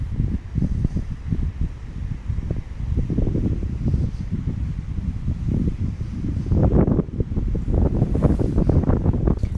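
Gusty sea wind buffets the microphone on the breezy coast at Tynemouth, near the Priory and Castle ruins, as a loud, continuous low rumble that swells in uneven bursts.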